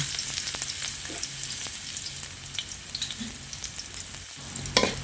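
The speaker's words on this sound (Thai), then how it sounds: "ใส่น้ำมันลงไปเล็กน้อยนะคะ เราจะ เคี่ยวกระเทียมให้หอมก่อนนะคะ" Garlic sizzles and crackles in a little hot oil in a frying pan, a steady dense frying hiss with occasional stirring scrapes and small pops, close and continuous with no talking.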